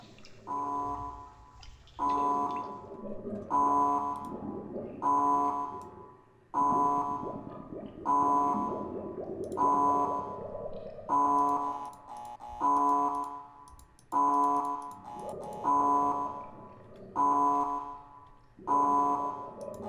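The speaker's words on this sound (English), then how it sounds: "Alarm's going off." A repeating electronic alarm in the realMyst video game pulses in steady, evenly spaced bursts of roughly a second each, loud and persistent with no talking over it.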